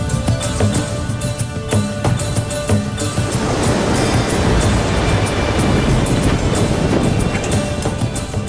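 Choppy sea waves slap and rush against a moving boat off Romblon in the Philippines, a loud, dense, continuous wash with engine-like rumble underneath and no talk.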